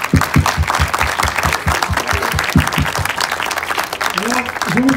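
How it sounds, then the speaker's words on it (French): Applause from parents and young football players at a youth team gathering, a steady wash of clapping hands lasting throughout, with a voice speaking over the end. "On les applaudit, les parents, nos joueurs."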